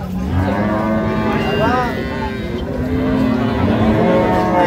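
Cattle lowing at a busy village livestock market in Dinajpur, where dairy cows and calves are sold; one loud, close moo rises and falls over steady crowd noise and murmuring.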